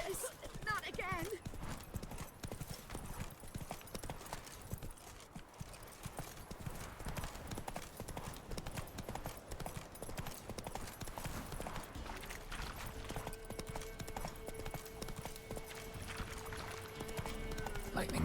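Hooves of a horse gallop in rapid, steady clip-clop rhythm through The Witcher 3, continuous and busy over ambient game sound, with a person talking over part of it.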